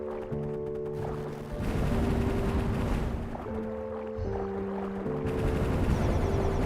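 Rapid bursts of gunfire from the video game Ender Magnolia rattle steadily under a looping musical tone, with no pauses in the shooting.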